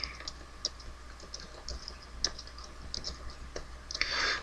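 Keys tapped on a computer keyboard while entering a name into a Microsoft Access database form: light, irregular clicks at close range over a faint steady hum, with a brief louder burst of typing at the end.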